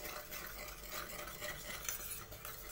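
A spoon stirs salt into lemon juice for lemon rice, giving quiet, continuous scraping and clinking against the bowl, faint and close, with no talking.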